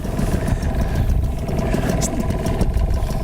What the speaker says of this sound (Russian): Мотор Тахацу пятерка. Давайте прокатимся и померим скорость.